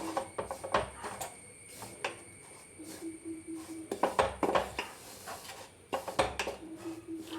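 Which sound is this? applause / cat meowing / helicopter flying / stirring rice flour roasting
stirring rice flour roasting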